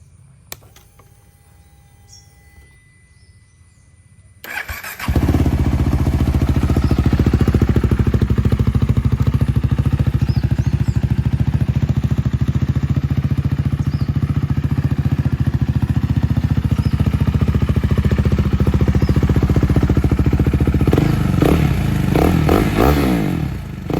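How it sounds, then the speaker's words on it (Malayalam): A KTM Duke 390 motorcycle with the dB killer removed from its stock exhaust starts after a few quiet seconds, then idles with a loud, steady, rumbling exhaust note close by. "അതിൻ്റെ എക്സോസ് നോട്ട് ഞാൻ കാണിച്ചുതരാം."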